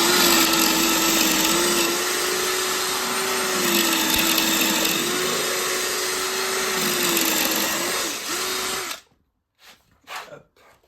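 Drill boring into a 19 mm shelf board for floating shelves in a solid wall, a loud continuous grinding whine for about nine seconds, then stopping abruptly, followed by a few short knocks.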